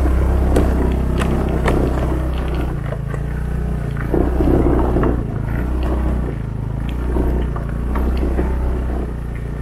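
A small automatic scooter engine hums steadily while the ride jolts over a bumpy village road in Minahasa, with rattles and knocks scattered throughout.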